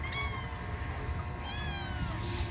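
A cat meows repeatedly in rising, drawn-out calls, apparently hungry, outdoors near a beach on a Korean island, over a steady low background rumble.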